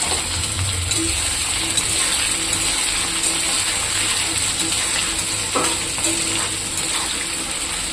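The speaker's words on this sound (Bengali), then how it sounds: "আমি আলুটা কেটে ভাজা করে নেব" Potatoes frying in hot oil in a wok, a steady dense sizzle and crackle running loud and continuous throughout, with occasional faint clinks and no talking.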